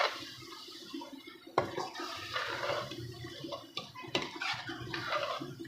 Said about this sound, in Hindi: अब इसको अच्छे तरीके से हम मिक्स करेंगे।